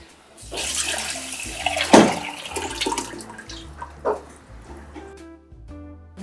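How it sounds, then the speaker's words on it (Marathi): Reserved dal water is poured into sizzling masala for amti alongside puran poli, a loud gushing splash with a bubbling, hissing sound that rises and then settles, with a low hum underneath. "आपण डाळीचं पाणी साईडला काढून ठेवले आहे ते आपण त्यात घालूया"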